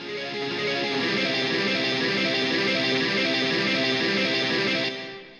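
Electric guitar through an amp simulation with delay, EQ and reverb, ringing out as a sustained washy chord with echoing repeats, steady and close, then fading near the end.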